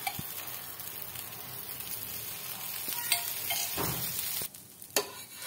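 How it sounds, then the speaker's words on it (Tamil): Thin dosa batter crisping in oil on a pan, a close steady sizzle with light stirring and scraping, ending in a few sharp scrapes and a sudden drop as the dosa is lifted off. "இப்போ நான் வந்து தோசை எடுத்து விட்டுறேன்."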